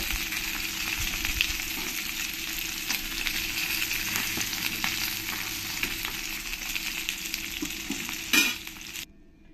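Koi fish fry in hot oil with a steady, close crackling sizzle and faint stirring scrapes, ending with a brief louder clatter before cutting to silence.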